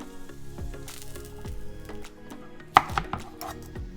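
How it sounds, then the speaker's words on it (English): A knife chops cooked lobster meat on a board in a series of quick, irregular strikes, with one louder clack near the end over a faint background hum. "We're just gonna finish those guys and then chop them up."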